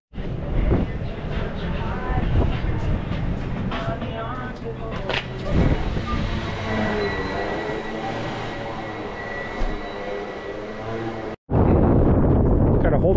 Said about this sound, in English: Hold my hat, it's so windy.